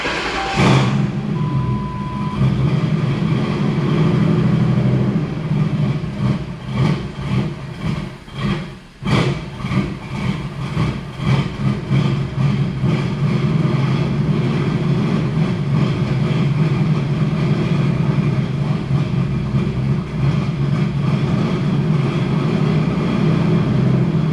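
A Ford Crown Victoria with a swapped 7.3L Godzilla V8, hooked to a booster box, cranks and catches, then settles into a loud, steady low rumble that dips briefly midway before holding a continuous idle close by.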